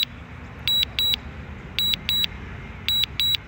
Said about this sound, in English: That beeping is incredibly annoying.